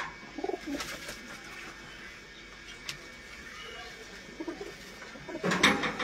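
Pigeons coo softly in the background, giving faint, scattered calls against a quiet ambient hum, with a louder burst of cooing and movement toward the end.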